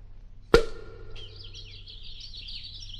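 A sharp pop as a cork is pulled from a bottle, followed by a continuous high, warbling bird-like chirping that carries on steadily to the end, presented as nightingale's tongues still chirping inside the bottle.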